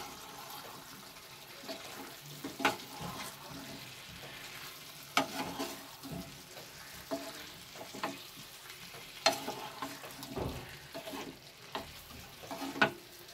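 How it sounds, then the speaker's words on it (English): Fried cauliflower and potato are stirred in a frying pan, a continuous sizzle broken by repeated close scraping and clacking strokes of the spoon at an uneven rhythm. "the fried cauliflowers. I'll mix it."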